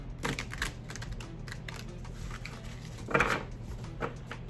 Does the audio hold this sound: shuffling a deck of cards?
yes